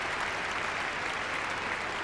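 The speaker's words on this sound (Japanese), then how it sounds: "大きな拍手を呼びました" Dense, steady applause from a large arena crowd for a figure skater's Biellmann spin at the 1994 Lillehammer Olympics free skate, filling the whole moment without a break.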